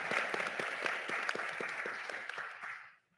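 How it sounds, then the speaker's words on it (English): Sustained audience applause for panelists at a youth mental health symposium, a steady wash of many hands clapping at moderate level that fades out near the end, with no talk over it. "Let's give our panelists a round of applause"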